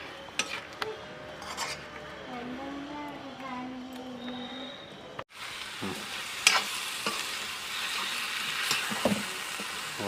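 Chilli flakes chicken fries in a pan on a stove with a splash of vinegar, steady sizzling broken by scraping stirs and a brief clatter of the pan, close and moderately loud.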